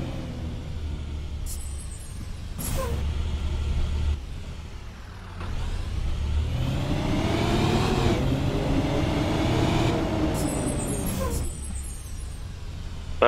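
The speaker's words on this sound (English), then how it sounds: "The Cummins buses have a different inside and outside idle sound" Cummins-engined bus in a bus simulator video game, droning at idle, then a hiss of air brake release and the engine revving and pulling away with a rising tone, brief chime-like tones near the start and end.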